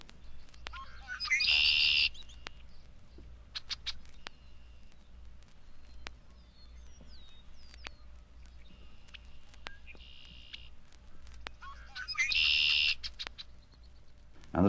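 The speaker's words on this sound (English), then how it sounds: "the redwings are still sounding their roundelays" Red-winged blackbirds sing by a pond in the evening, two loud buzzy trilling songs standing out several seconds apart over a quieter background of scattered chirps.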